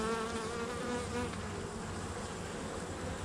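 Dense, steady buzzing of many honeybees swarming around open hive frames in July, close and continuous with no talking.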